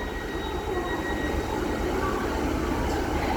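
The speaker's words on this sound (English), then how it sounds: "Class 150 Sprinter." A Northern Class 150 Sprinter diesel unit, 150274, runs at Doncaster Station on a local service. Its engine makes a steady, continuous rumble with faint high tonal whines over broadband station noise, and the sound stays fairly loud throughout.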